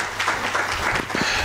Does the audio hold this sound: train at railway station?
no